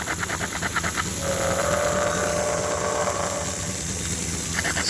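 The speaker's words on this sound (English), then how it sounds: "Steam whistle." A model train sound system plays a steam whistle, a sustained hissing tone lasting a few seconds over steady mechanical chuffing and hiss.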